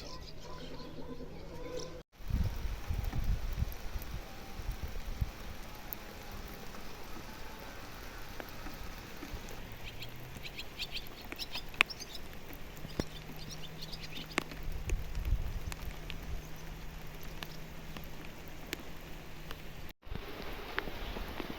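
Steady rain hisses outdoors over a yard with large puddles for a long stretch, with scattered drops pattering nearby and a faint bird now and then.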